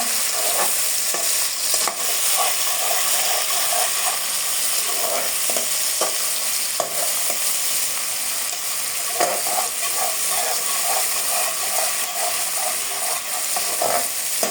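Chopped onions fry in oil with cinnamon, bay leaf, cloves and cardamom for biryani, giving a loud continuous sizzle with repeated spatula scrapes and clicks against the pan.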